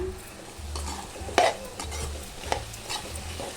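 Chili powder and salt being stirred into a drumstick, potato and egg curry, a low sizzle under several spoon scrapes and light clinks against the pot, close up.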